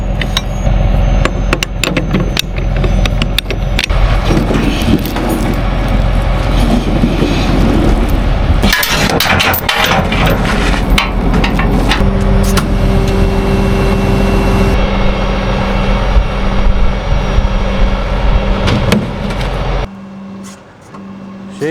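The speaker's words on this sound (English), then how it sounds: "But for now, we're gonna pull the trailer backwards." A 1969 Peterbilt truck pulls an old trailer backwards, with a loud, continuous engine rumble and rattling, clanking metal for about twenty seconds before the noise briefly drops away near the end.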